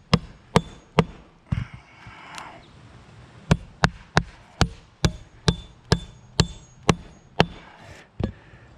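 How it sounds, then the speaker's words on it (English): A hammer drives nails into metal roof flashing in a repair job, a series of about fifteen sharp, loud, close strikes in an uneven rhythm with short pauses between groups. "Because I'm angling the hammer in a weird way."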